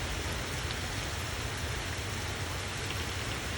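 Steady rain falling on surfaces, a dense, even hiss and patter heard close and constant throughout with no talk.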